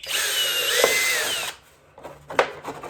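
A small bit in a power drill bores into a garden planter for a DIY vertical garden, a loud, close whine for about a second and a half that then stops, followed by a few faint clicks.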